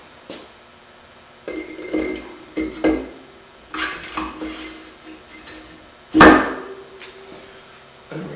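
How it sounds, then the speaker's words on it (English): An MGB cylinder head and head gasket being lowered onto the engine block during a top-end rebuild, giving scattered metallic clinks, knocks and clunks close by, with one louder clank near the end. "now we're going to offer up the cylinder head"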